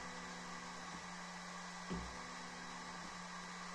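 A faulty Enjoywood laser engraver creeps slowly along its axes with a steady, close motor hum and faint soft knocks, with no voices.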